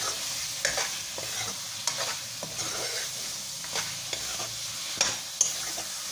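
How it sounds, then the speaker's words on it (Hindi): A spoon mixes potatoes into fried masala in a pan for a potato and egg curry, with a steady low sizzle under repeated scraping strokes and light taps against the pan. "अब हम इसमें आलू डालने लगे और चमची की मदद से अच्छे से मिक्स कर लेंगे।"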